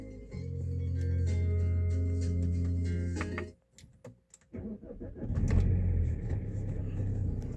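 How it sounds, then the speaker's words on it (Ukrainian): An Opel Vectra C 1.9 diesel engine rumbles at idle, cuts off briefly, then cranks and starts again with a loud low churn that settles into a steady run. "От зараз запущу автомобіль"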